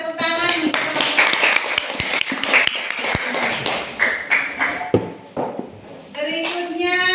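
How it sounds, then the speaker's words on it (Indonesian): A classroom gives a presenting group a round of applause, many hands clapping together at close range for several seconds while voices talk over and around it. "Kita tepuk tangan untuk kelompok."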